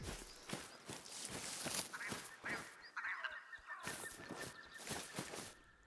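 A hen bird calls in theHunter Call of the Wild, coastal hunting setting, with several short, loud honking calls in bursts, a brief pause, then another cluster, heard close with no talking.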